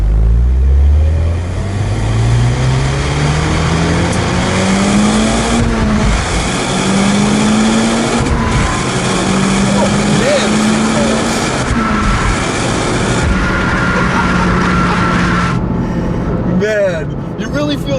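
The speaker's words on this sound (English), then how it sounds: "you really feel the power coming in this car. Just over the 3000 RPM, it just starts pulling like crazy." A Mitsubishi Lancer Evolution Final Edition's engine revs up through repeated rising pulls, each climb ending in a brief gear-change dip, loud and close from inside the car, with someone talking over parts of it.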